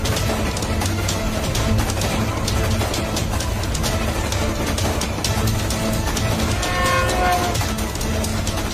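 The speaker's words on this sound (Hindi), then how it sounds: "ये ट्रेन वापस क्यों आ रही है?" A cartoon train rumbles along with steady clickety-clack on the rails and a horn blaring briefly near the end, loud and continuous throughout.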